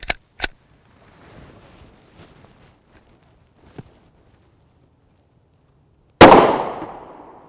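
A Ruger 5.7 pistol firing 5.7x28mm rounds outdoors: two sharp reports at the start, a fainter pop midway, then one loud shot with a long trailing echo, no talk.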